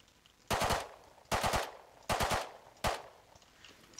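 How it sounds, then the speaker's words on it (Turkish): Four quick three-round bursts from a burst-mode rifle in the video game Rust crack out at an even pace, each tight rattling volley loud and close against a quiet background. "Üçlü modumuz artık daha seri atış ediyor."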